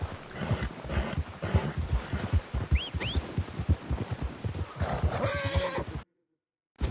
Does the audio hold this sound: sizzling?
no